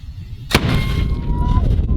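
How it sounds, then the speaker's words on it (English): A cannon fires once in a single sharp, loud blast, followed by a rumbling tail that lingers for well over a second outdoors. "then we got to shoot some cannons"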